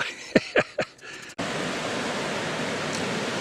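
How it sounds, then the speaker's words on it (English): Steady broadband rush of water flowing through Otter Rapids on a wilderness canoe portage route, loud and continuous after a few brief knocks at the start. "You can hear the rush of the water as it flows past."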